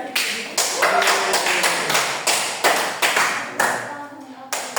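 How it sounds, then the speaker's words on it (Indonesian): Students applauding in a classroom during a micro-teaching maths lesson, several bursts of brisk hand clapping from a nearby group, each swelling and tapering, with short pauses between. "Oke, kasih aplaus ya."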